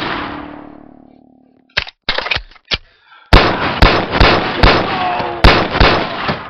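Rapid gunshots from firearms in the virtual reality game BoneLab, a few isolated cracks followed by a steady burst of loud, close shots in quick succession with no talk.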